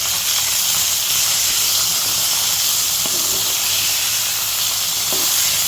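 Rampa, curry leaves, salt, tomato and fish chili fry in hot oil in a pan, giving a loud, continuous close-up sizzle and hiss with a couple of faint utensil touches.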